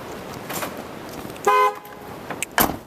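A Ford Transit van's alarm chirps once with a short bright electronic beep while the doors are open, surrounded by a few clicks and light handling noise, close by.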